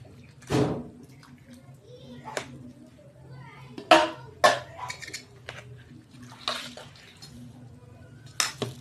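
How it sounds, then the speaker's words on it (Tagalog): Water splashes and is stirred in a metal pan, with scattered clanks of utensils and pot, sharp knocks at irregular intervals over a quiet kitchen background. "Lagyan natin ng water."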